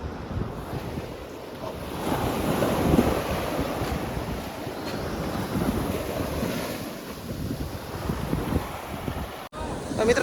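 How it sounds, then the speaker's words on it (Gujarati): Strong wind roars across the microphone on the sea coast while waves wash and surge in the background, a continuous loud rumble that swells in the middle of the stretch. "હજી તો મોજા ઓછા છે પવન વધારે છે"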